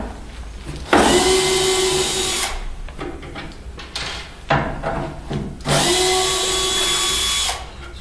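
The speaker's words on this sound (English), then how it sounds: "But I'm just doing this for demonstration purposes by screwing." A power drill drives screws into a wood piece fixed to a support, two long loud whirring runs separated by a pause with handling knocks, close and without talk.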